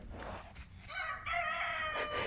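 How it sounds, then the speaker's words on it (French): A rooster crows a drawn-out cock-a-doodle-doo at moderate distance over faint outdoor background noise, one full call heard alone without talking. "Ok, le coq."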